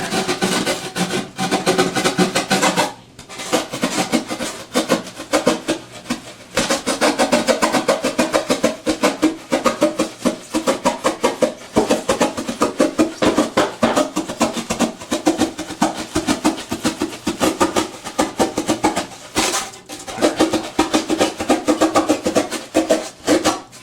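A plastic shell goose decoy being trimmed: loud, continuous rasping and rubbing close up, with only a short break early on, with no talk.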